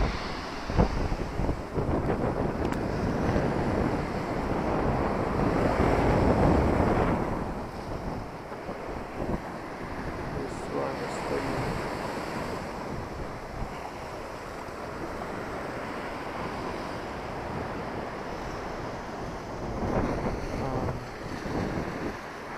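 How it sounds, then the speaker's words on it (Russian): Sea waves wash and crash on a beach at Yalta, Crimea, over gusting wind that buffets the microphone, with a swell of surf building midway, no voices. "вот это волны. И ветер, конечно, слышится."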